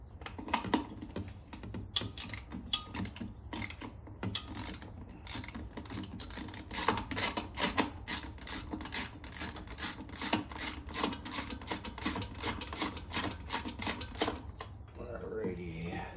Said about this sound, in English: first what we're going to do is go ahead and remove our vibration nut back here